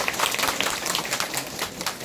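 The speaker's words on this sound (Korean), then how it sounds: "동의하시면 박수로 환영해 주시기 바랍니다." A room full of market merchants at their general meeting applauding together: steady dense clapping, moderately loud and continuous throughout.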